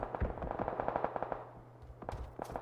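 Rapid bursts of automatic gunfire from an online multiplayer video game championship match, a dense run of close shots followed by a pause and a few more scattered volleys.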